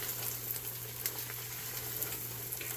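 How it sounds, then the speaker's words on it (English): Taco soup ingredients sizzle steadily in a pot as they are stirred, a constant frying hiss with a low hum beneath it. No voices are heard. "give this a stir"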